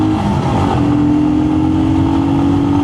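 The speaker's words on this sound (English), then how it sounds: "Right, 2nd gear, let's see what we can do. That's wide open throttle" Royal Enfield Scram 411 motorcycle at wide open throttle in second gear, its engine pulling hard with a steady, loud, close-up drone that climbs slightly in pitch and holds for the full few seconds.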